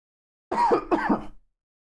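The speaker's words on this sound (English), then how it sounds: "Can't stop coughing" A poker stream commentator lets out two quick, close coughs, rough and throaty, back to back in silence.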